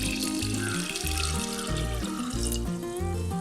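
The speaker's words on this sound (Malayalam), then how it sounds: "അതിനുശേഷം ഇതിലേക്ക് വെള്ളം ഒഴിച്ചു കൊടുക്കാം" Room-temperature water pours into a grape and sugar mixture for homemade red wine, a continuous splashing stream whose tone shifts as the vessel fills.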